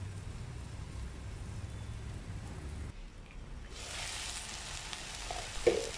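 Onions, shallots, garlic and ginger sauté in a covered pan, giving a steady low sizzle that dips briefly before a brighter, louder frying hiss returns with a small clink near the end.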